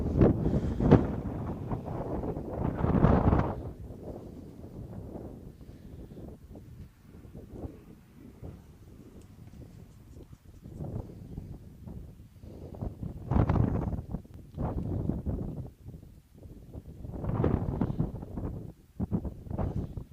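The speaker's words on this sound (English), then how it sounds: "a huge gust of wind right there" Strong gusts of wind buffet the microphone at an outdoor Penn Hills at Armstrong game, with loud, low, rumbling surges that swell and fade repeatedly across the stretch.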